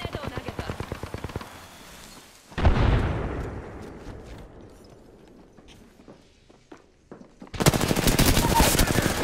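Apex Legends firefight with rapid gunfire bursts, then a thermite grenade bursting into a heavy whooshing, crackling blaze that fades over several seconds, before loud automatic fire resumes; no speech is heard.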